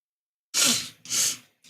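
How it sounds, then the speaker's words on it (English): Two sharp nasal sniffs in quick succession, close and breathy, after a moment of silence. "sniffles now"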